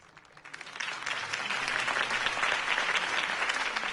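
Crowd applause after a campaign speech, rising quickly from quiet into a full, sustained wave of many hands clapping that stays loud to the end.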